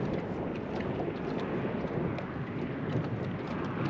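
Wind gusting over a lake in cold January weather, a steady broadband roar and rumble with microphone buffeting, continuous and loud with no talking.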